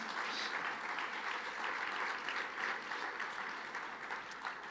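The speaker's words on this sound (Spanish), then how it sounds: "Fuerte ese aplauso de alabanza al Señor." A church congregation applauds in praise to the Lord, a steady, dense wash of clapping that holds evenly throughout without pause.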